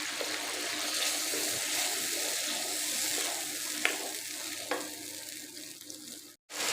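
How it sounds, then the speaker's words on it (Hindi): Masala for nargisi kofta fries in a pot with yogurt added, a steady, even sizzle and hiss that runs the whole time. There are a few soft clinks of stirring and no talk. "अब मसाला अच्छी तरह भून गया"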